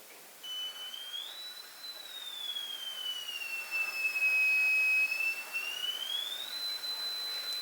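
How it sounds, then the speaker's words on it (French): A homemade radio transmitter built around an NE555 chip sends a high, pure Morse-style tone that holds steady while its pitch glides slowly downward and then back up. It is faint against background hiss. "Ce qui fait que je peux faire du morse plus aigu"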